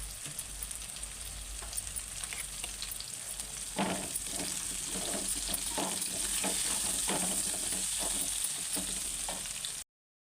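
Sizzling from tomato frying in hot oil for a potato fry, a steady crackle running the whole time with occasional stirring scrapes.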